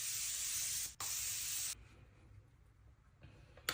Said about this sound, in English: Here is the Supergoop Play antioxidant mist.